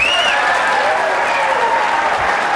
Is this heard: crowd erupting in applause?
yes